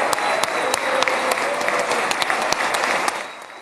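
Knesset members give a standing ovation to Trump with dense, sustained clapping from a packed chamber, fairly loud and continuous, easing slightly toward the end.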